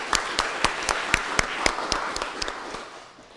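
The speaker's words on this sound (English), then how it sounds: "We all clap for them one last time." An audience claps at a Scout Court of Honor, with about a dozen sharp, evenly spaced claps fading toward the end, moderately close in a room.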